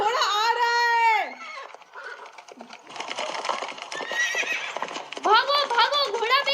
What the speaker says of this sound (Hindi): उसी वक्त वहां पे एक घोड़ा बेकाबू होकर दौड़ने लगा।